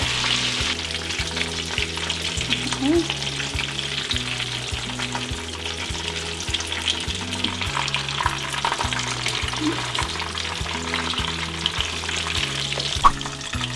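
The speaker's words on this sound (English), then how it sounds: "so now we're done frying" Oil sizzles and crackles steadily throughout as beef cutlets fry, with a low mechanical hum underneath and no voices.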